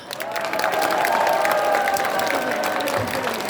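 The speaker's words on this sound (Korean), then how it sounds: "박수 모시겠습니다." A crowd applauds at a political party gathering in a hall, a continuous, even roar of clapping with scattered cheers that holds steady throughout.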